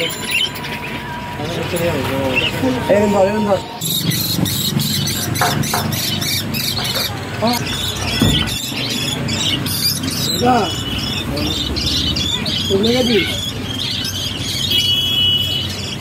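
Lutino lovebirds at a Kolkata bird market give a steady stream of shrill chirps and squeaky calls over busy crowd noise, close and loud throughout.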